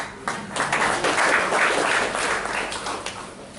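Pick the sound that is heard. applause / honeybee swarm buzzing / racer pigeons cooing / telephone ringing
applause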